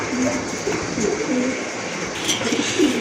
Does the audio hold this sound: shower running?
no